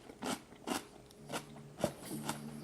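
Crunchy pickled red onion is bitten and chewed up close, giving about five distinct crisp crunches spaced roughly half a second apart, fairly quiet and with no talking.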